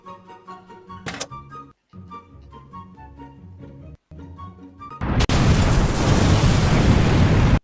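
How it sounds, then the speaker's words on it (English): Music plays with brief dropouts, then a sudden loud Minecraft video game explosion bursts in and a roaring rumble sustains to the end. "the explosions are clearly added on in post"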